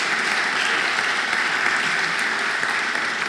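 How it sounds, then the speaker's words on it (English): A crowd claps steadily and continuously at a senior citizens hall of fame induction ceremony, dense applause filling the space from start to finish without pause. "Let's have a round of applause for these talented young men and women."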